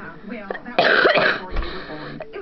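A voice performer lets out one short, sharp cough in a Littlest Pet Shop toy skit, a brief burst close to the mic between bits of voiced sound.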